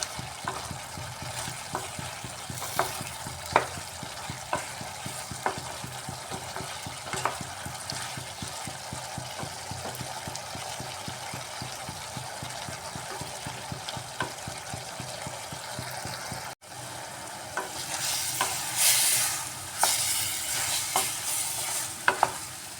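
Kohlrabi and potato curry is stirred in a pan to cook off its water, giving a steady scraping, rhythmic stir over a continuous sizzle, with a louder, hissier stretch of frying toward the end.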